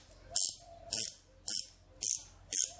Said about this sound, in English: so they've got a ratchet in them. Makes life a lot easier in tight spots.